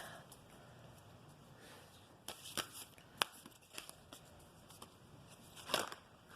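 Chakra cards shuffled for a reading: quiet papery riffles and sharp card snaps in irregular clusters, faint and close, with the sharpest flicks bunched in the second half.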